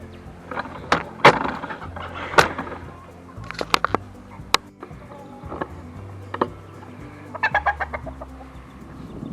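Chickens cluck and squawk nearby in a steady scattered chorus, with sharp clucks and a few quick bursts of calls over low background rumble.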